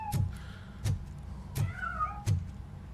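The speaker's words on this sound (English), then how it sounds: "It's obviously the cat." Cat meows inside the RoboCop: Rogue City video game, four separate calls spaced roughly evenly over three seconds against a low steady ambient rumble.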